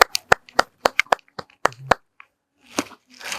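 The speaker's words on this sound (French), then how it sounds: "Est-ce qu'on peut acclamer d'abord Jésus?" A few hands in a church congregation clap in loose, irregular sharp bursts, close and fairly loud, thinning out into scattered claps and faint noise.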